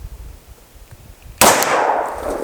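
A single sharp, loud gunshot from a compact Glock 29 pistol firing 10mm Federal HST 200-grain ammunition cracks out after a quiet pause, followed by a ringing outdoor decay.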